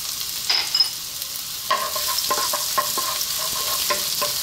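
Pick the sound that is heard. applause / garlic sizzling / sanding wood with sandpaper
garlic sizzling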